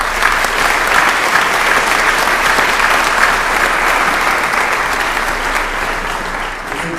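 A large audience at a senior awards program breaks into sustained, dense applause for the presenters, a loud steady wash of many hands clapping that holds for several seconds before easing slightly.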